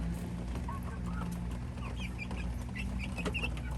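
Chickens and small chicks cluck and peep while feeding, with soft chirps scattered over a steady low mechanical hum, fairly quiet and close.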